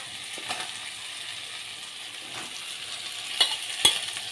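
Finely chopped mushrooms sizzle in a frying pan for a mushroom gravy, a steady low crackle broken by a few scraping stirs and light clinks from the spoon.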